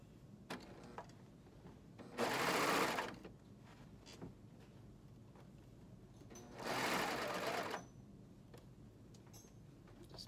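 A sewing machine runs two short bursts of stitching along a T-shirt side seam, each lasting about a second, with quiet handling noise and faint background sounds between them.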